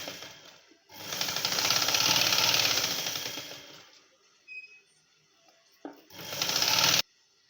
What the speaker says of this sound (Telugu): బ్యాక్ పార్ట్కి నడుము బెల్ట్ వేసుకోవాలి తెలుసు కదా స్ట్రైట్గా కుట్టు వేసుకోవాలి